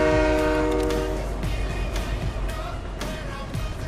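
A train passes in Fortnite with a loud, sustained horn blast at the start, followed by rumbling wheels and clattering rail noise that fade gradually as it moves on.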